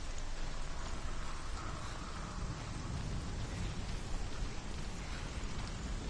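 Steady rain and wind in the video game Hellblade, a dense, even hiss of falling rain with a low windy rumble underneath, continuous and fairly quiet with no distinct drops standing out.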